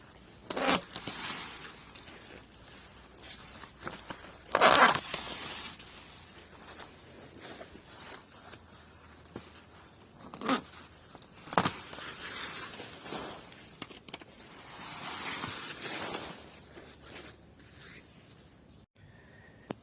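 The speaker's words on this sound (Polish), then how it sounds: "Na początek łodygi przycinam przy samej ziemi." Sunflower stalks being cut off at ground level in a garden, heard as a series of sharp snipping and crunching cuts with rustling of dry stems between them, close and fairly quiet, with no talking.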